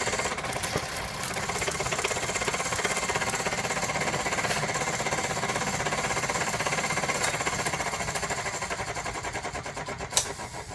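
A steady, loud mechanical whine and grinding drone of a homemade drill press boring through plywood, continuous for about ten seconds with a sharp click near the end.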